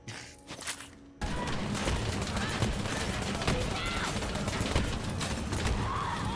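Rapid gunfire and blasts from a Borderlands 3 firefight played in VR with a mech, a dense continuous barrage of shots and explosions that starts abruptly after a brief quieter moment and stays loud throughout.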